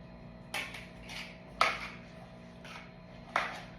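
A spoon stirring seafood salad with pepper in a bowl, heard as a few spaced, sharp clinks and knocks against the bowl, close and fairly quiet, with no talking.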